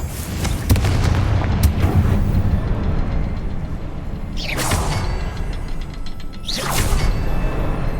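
The Confringo explosive spell is cast twice in Hogwarts Legacy, each time a sharp whooshing burst and boom rising above a steady background bed, a couple of seconds apart.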